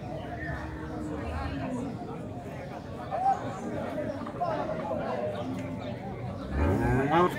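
Cattle lowing amid a busy crowd at a livestock fair in Alagoas, Brazil, with people talking nearby and a louder moo near the end over the general chatter.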